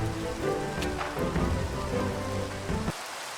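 Rain in the Minecraft Pixelmon game world, a dense, steady patter of drops on surfaces with a low rumbling undertone, continuous and fairly loud before cutting off abruptly near the end.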